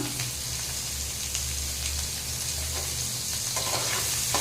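Green chillies land in hot ghee beside bay leaves for a papaya dish, setting off a loud, continuous crackling sizzle with occasional stirring scrapes, heard up close with no talking.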